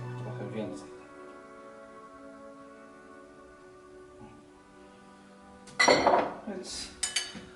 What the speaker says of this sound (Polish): Dokładnie mieszamy. I mamy nasz sos czosnkowy.